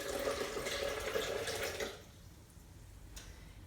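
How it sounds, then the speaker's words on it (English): Water pouring into a Vitamix blender over soaked almonds, a steady splashing gush for about two seconds that then fades to a faint trickle and drip. "Ooh, and I'm spilling the water."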